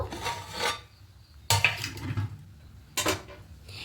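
A metal lid taken off a pot of paneer pulao, a few separate clanks and clatters of cookware at a close distance, with quiet gaps between them.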